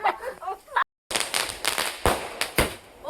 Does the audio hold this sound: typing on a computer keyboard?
no